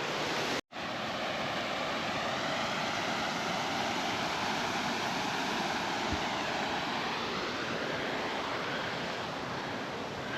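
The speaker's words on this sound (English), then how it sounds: "A waterfall be flowing, bruh." A waterfall on a hiking trail roars in a dense, continuous rush of falling water, loud and steady after a brief dropout near the start, with no voices.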